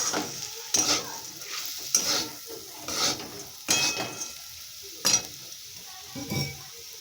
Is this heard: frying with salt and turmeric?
yes